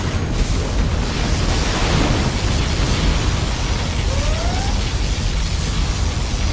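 A USA particle cannon firing in Command & Conquer Generals Zero Hour during a large battle: a loud, continuous roaring blast of dense noise, with a faint rising whine toward the end.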